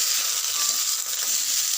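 Sliced broad beans frying in a pan, a steady close hiss and sizzle of hot oil with faint stirring, continuous and even with no talking.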